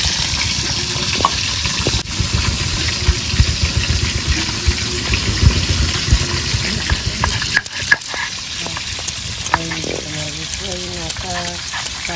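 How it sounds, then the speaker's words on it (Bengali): The rest of the fish sizzles loudly in a pan of white oil, a constant crackling hiss with stirring scrapes, and a voice speaks briefly near the end. "এবার বাকি মাছগুলো ভেজে নেব।"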